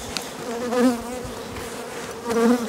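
Honeybees buzzing around a hive in an apiary during feeding, a steady close droning hum that swells louder twice as bees stream out of a crack in the box.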